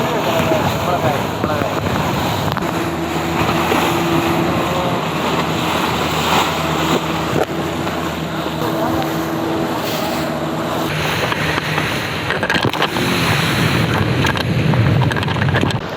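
Sea waves wash around a fishermen's boat out at sea off Udupi, a steady broadband roar with wind buffeting the microphone and a low engine hum beneath, continuous and close throughout.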